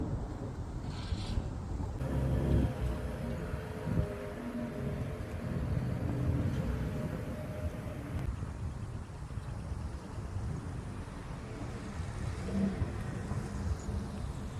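A motorcycle towing a Kendon motorcycle trailer, heard as a steady low engine rumble with wind buffeting on the microphone, fairly faint and continuous, with no one talking.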